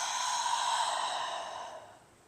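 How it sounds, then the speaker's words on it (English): One long, breathy exhale out through the mouth during a yoga breathing exercise outdoors, loud at first and then slowly fading over about two seconds, heard alone with no talking. "Inhale forward. Exhale out the mouth."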